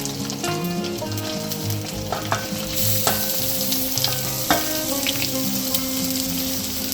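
Boiled potatoes frying with spice paste in a pan for an Andhra-style potato fry, a steady close sizzle with scraping stirring clinks and a few sharp knocks of the spoon against the pan.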